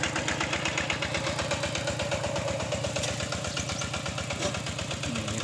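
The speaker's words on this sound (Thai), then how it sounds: "ยินเสียงรถเสียงล่างเด้อพี่น้องเด้อ" A vehicle engine idles steadily nearby with a rhythmic low thrum and constant mid-range rumble throughout, no pauses or voices.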